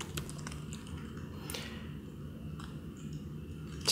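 Keys clatter on a computer keyboard with a faulty spacebar during a temperature LCD physical computing project, soft scattered taps and clicks over a steady low hum.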